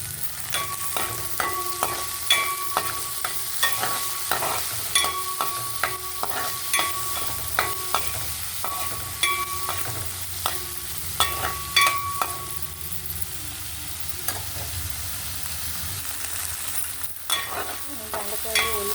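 Sliced onions and okra fry in a pan with a continuous crackling sizzle, punctuated by frequent clicking scrapes of a spoon stirring against the metal, steady and close throughout.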